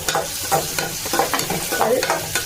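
Ingredients for a chicken gravy sautéed in a pan with steady sizzling and repeated scraping stirs of a spoon, close and fairly loud, no voices.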